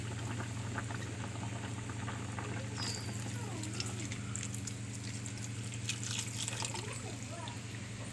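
First coconut milk poured into a pot of boiling fish curry, soft continuous bubbling and liquid sloshing, quiet and close, with a steady low hum underneath and faint voices.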